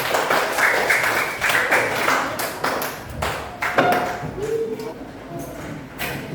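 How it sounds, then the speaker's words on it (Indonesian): Classroom clapping during a lesson, a short burst of students' hands clapping that tapers off into scattered claps, with voices talking and some knocks and taps mixed in. "Ayo tepuk tangan dulu sekarang."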